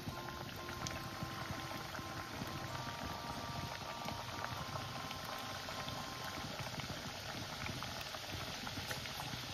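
Khaja pastries deep-frying a few at a time in hot oil in a small pan, giving a steady, dense sizzle and bubbling that stays constant throughout with no voices.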